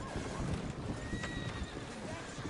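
Horses clip-clopping and neighing near stables in a town in the video game Red Dead Redemption 2, soft hoof clops and a whinny heard faintly beneath a dense background wash.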